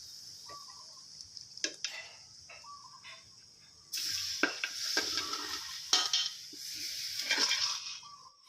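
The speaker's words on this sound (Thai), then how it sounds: "คนให้ดูเลยนะครับ จะเป็นอย่างนี้นะครับ" Braised chicken and shiitake mushrooms are stir-fried in a pot over high heat, with repeated scraping strokes of the stirring spoon and a sizzle that grows louder and denser partway through, close by and with no talk.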